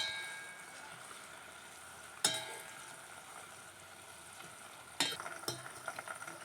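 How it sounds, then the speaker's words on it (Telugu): Hair oil with curry leaves and hibiscus leaves heats in a pan, a faint, steady low sizzle with two sharp clinks of a stirring utensil against the vessel, close by and with no talk. "ఇదంతా మరిగించుకుందాం గాయ్స్. ఒకసారి కలుపుకుందాం."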